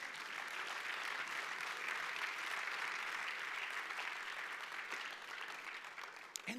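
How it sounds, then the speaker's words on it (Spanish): A church congregation claps for the Lord during a Spanish-language sermon, a dense, steady wash of applause from many hands that holds throughout and thins slightly near the end. "Dele palmas al Señor"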